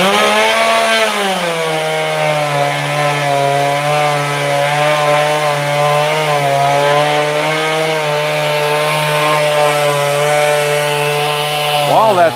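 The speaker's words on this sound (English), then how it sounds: "I don't know if you can hear me all right over the chainsaw" A chainsaw engine drones loudly and steadily, its pitch wavering slightly as it revs, continuous throughout with a brief rise at the end.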